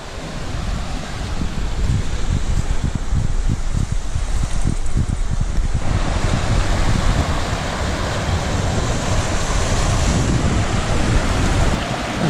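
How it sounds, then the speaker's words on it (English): A waterfall on the Black Forest Trail rushing steadily and loudly close by, a dense, unbroken roar of falling water with no talking. "Third waterfall, right within the last 100 yards."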